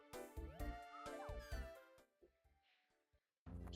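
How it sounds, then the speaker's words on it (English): A house cat meows repeatedly at a closed door, wanting to be let in, its cries close and insistent with short pauses between calls, all heard over video game music. "Cat wants in."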